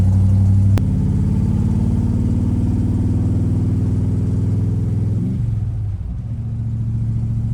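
A 1968 Dodge Coronet V8 running with open headers gives a loud, close, steady rumbling drone that holds, then dips and wavers near the end as the revs change, with no talk over it.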